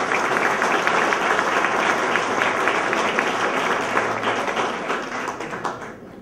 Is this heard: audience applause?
yes